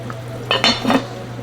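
A spoon stirring a pot of beef rigatoni sauce, a short burst of metallic scraping and clinking against the pot over a low steady kitchen hum, close up with no voices.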